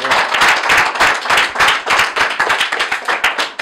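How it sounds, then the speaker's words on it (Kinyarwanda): A church congregation claps together for God in rhythmic, steady bursts of many hands, loud and close throughout with no talking. "reka dukomere Imana amashyi"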